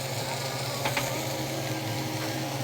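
Steak searing in oil in a pan, a steady dense sizzle running throughout with a couple of brief metallic clicks near the start, fairly close and with no talk.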